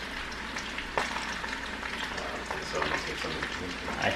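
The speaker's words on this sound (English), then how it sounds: "I'm starting dinner now. So we're gonna have fried potatoes." Potatoes fry in a home kitchen pan, a steady soft sizzle and crackle that runs throughout, fairly quiet, with a few small clinks and knocks of cookware.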